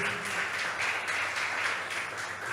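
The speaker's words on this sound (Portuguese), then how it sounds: "Dê um aplauso ao Senhor, exalte o nome dEle" Applause from a congregation during a church worship service, a dense sustained clapping that fills the room with a pulsing rhythm throughout.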